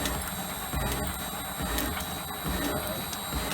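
An Elliot 14S machine tool running a 60 thou deep cut, a dense, steady mechanical whir and grind with faint periodic pulses, close and continuous throughout.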